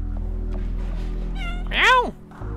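A cat in the video game Stray lets out one clear, rising-and-falling meow near the end, heard close and loud over a low steady electronic hum, with faint earlier chirps.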